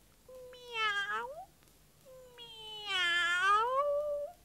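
A human voice imitates a cat with two long, drawn-out meows, the second louder and rising then falling, each clear and alone against a quiet background.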